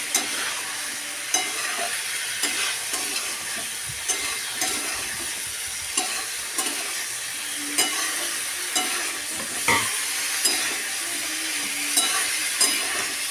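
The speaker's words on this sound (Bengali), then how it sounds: "ফুলকপি দিয়ে এটাকে আবারও নাড়াচাড়া করে নেব" Cauliflower fries in a pan for a duck egg curry while a spoon stirs it in regular scraping strokes about once a second, each standing out over a steady close sizzle.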